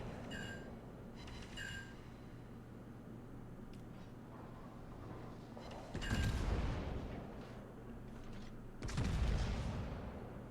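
Naval guns fire a broadside in the naval combat game World of Warships, heard as two deep, rumbling blasts a few seconds apart over steady low engine drone, with a couple of short electronic beeps at the start.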